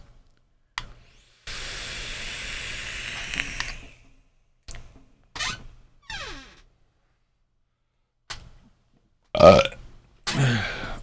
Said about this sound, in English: Jaeger burp.